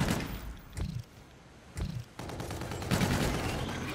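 Turret gunfire in Call of Duty: Infinite Warfare: sharp shots that come in bursts, with two distinct thumps followed by rapid firing, fairly quiet overall.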